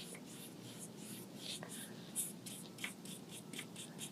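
A paintbrush strokes across a paper mask at an art table, giving faint, soft, repeated brushing and scratching sounds in a quiet room.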